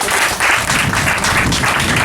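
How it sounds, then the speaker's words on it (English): An audience claps and applauds at a gathering honoring mothers, a dense wash of hand claps rising and falling slightly, loud and sustained for a couple of seconds. "Let's give them mothers a hand clap of praise."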